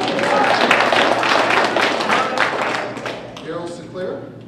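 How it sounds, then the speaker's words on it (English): Applause from an audience at the Encore Awards ceremony, a steady wash of clapping that tapers off as an announcer resumes speaking. "Please feel free to applaud"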